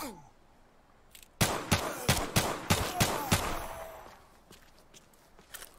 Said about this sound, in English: I'm loving how the guns sound.